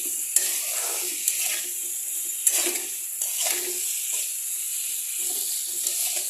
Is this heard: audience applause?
no